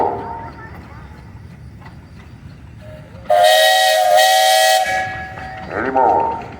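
A 1915 steam traction engine at a parade sounds its whistle in one loud, sustained blast of about a second and a half, followed by a shorter toot, with an announcer talking before it.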